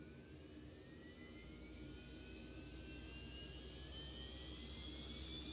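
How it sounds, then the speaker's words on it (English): Default jet engine sound of an airliner in the X-Plane 12 flight simulator: a faint, steady roar with whining tones that slowly rise as the engine spools up. "we'll listen to some of these default sounds. Default plane sounds."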